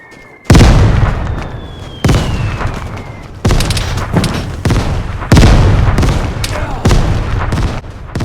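Mortar strikes in the video game Vigor land one after another, each a heavy, loud boom with a long rumbling tail, about four blasts spaced roughly every one to two seconds.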